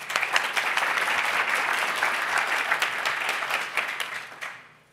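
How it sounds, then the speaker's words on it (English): A room of listeners applauds a speaker at a PyData London lightning talk session, dense steady clapping for several seconds that tapers and stops near the end. "Big round of applause, everyone."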